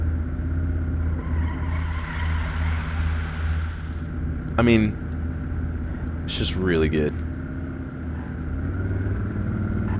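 Tyres squeal briefly twice over a steady engine rumble as a car is driven in Arma 3, with someone talking over the driving noise.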